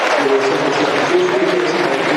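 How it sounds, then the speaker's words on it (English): Football crowd at the Den applauding a substituted player leaving the field during Millwall against Stoke City, a broad steady wash of clapping and crowd noise heard from a distance. "he leaves the field to applause"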